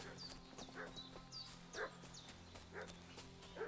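A dog barks repeatedly in the medieval game Kingdom Come: Deliverance II, a series of short sharp yelps at a steady pace, moderately distant, over a low ambient hum.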